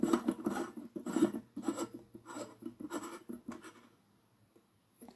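Philips Comet 125 W mercury vapour lamp with E27 base being screwed into its socket, giving soft repeated scraping and rubbing twists close by, fading out toward the end.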